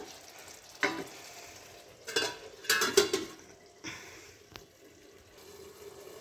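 Spinach ghonto sizzles softly in a pan while a utensil stirs it in a few short scraping bursts between quieter stretches of gentle frying.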